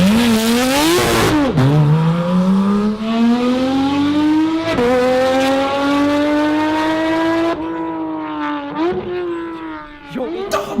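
Porsche 911 GT3 RS exhaust revving hard toward 9,000 RPM, a loud, close, high-pitched wail that climbs and drops in repeated sweeps, with brief shifts between pulls and faint voices underneath.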